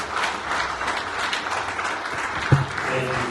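Steady audience applause fills a Nigerian awards ceremony hall, a dense wash of clapping from a large crowd that holds throughout, with one sharper thump near the end.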